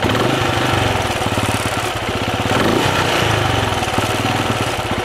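A Benelli Imperiale 400 motorcycle engine runs loud and close with a pulsing, throbbing exhaust beat, its revs rising and sagging unevenly throughout without any voices.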